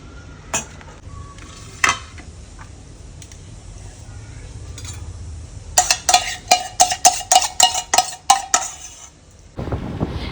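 Masala and oil for ramen, with a few scattered clinks and scrapes, then a rapid run of loud metallic stirring strikes against a pan over a faint sizzle, ending in a rush of noise.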